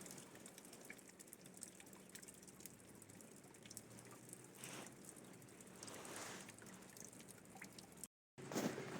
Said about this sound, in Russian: Капель осенняя.